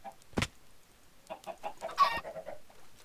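Chickens in a Minecraft chicken farm cluck in short, repeated bursts, close by, with a sharp thump near the start and a louder flurry midway through.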